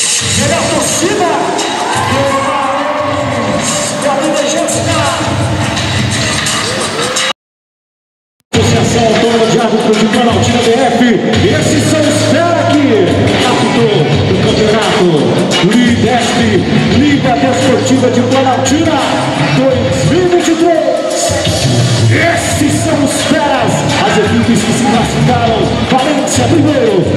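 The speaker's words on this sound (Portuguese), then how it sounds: "Vem a torcida." Crowd of fans cheering and shouting at an amateur football championship trophy ceremony in Planaltina, DF, a loud continuous roar with whoops and bangs that breaks off for a moment, then swells again with voices mixed in.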